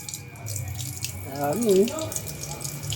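Water suddenly pours out from a Toyota Innova after a part is removed, a running, splashing stream heard under a voice with steady background noise.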